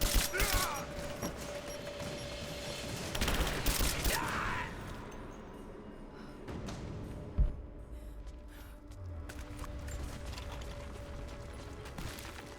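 Gunfire in the video game Rise of the Tomb Raider comes as a few sharp bursts among mechanical clicks and clatter. Quieter rustling stretches fill the gaps between shots.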